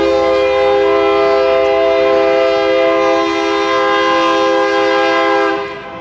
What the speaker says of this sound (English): That's what you're hearing, is a loud train. It's got 4 engines on it.